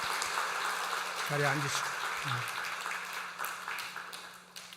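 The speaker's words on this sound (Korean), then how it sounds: "우리 박수로 축하하도록 하겠습니다" Church congregation during Sunday worship applauding in celebration of a couple, a fading patter of clapping across the clip while someone speaks briefly over it.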